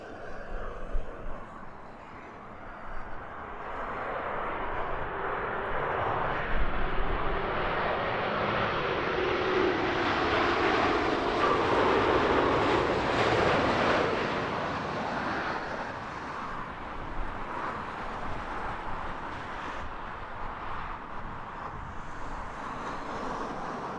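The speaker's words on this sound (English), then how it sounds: "That arrival there was a really good example of just how much quieter as well as more efficient the newer aircraft are." A newer airliner lands on runway 27 left at Heathrow at sunrise, a broad engine roar swelling over several seconds and then holding a steady rushing drone as it passes and rolls out.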